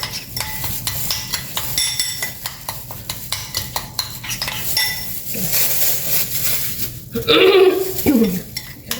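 Utensils stir and toss a vegetable dish as sauce is mixed in, giving a busy run of scraping and clinking against the pan or bowl, close and fairly loud, with a light sizzle and a brief voice near the end.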